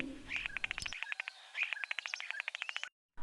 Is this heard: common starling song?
yes